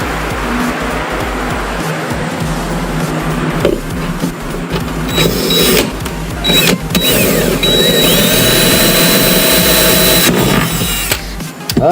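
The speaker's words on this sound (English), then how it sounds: "I have to drill out this other side though." A power drill bores out plastic, its motor whining in uneven bursts that rise and fall amid steady background noise, loud and close throughout.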